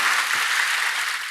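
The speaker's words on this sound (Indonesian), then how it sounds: "Berikan tepuk tangan kita untuk Tuhan kita." A church congregation at a worship service applauds with a steady, dense wash of clapping that holds evenly for its whole short length, with no voices over it.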